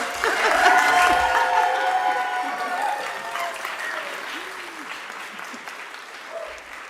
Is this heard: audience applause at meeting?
yes